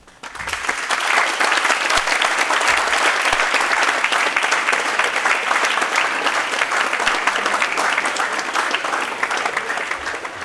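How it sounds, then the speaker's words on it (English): A graduation audience at FASNY applauds the graduates' parents, a loud, sustained roar of many hands clapping that swells in quickly and holds steady for about ten seconds, close and full. "Please applaud your parents."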